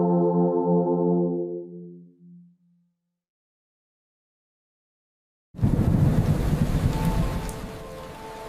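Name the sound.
rain and thunder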